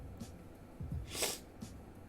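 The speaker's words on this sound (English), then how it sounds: "Ugh, the sniffles." A quiet sniffle from allergies through the nose, with a couple of softer breathy snorts around it, faint and alone in a hushed room.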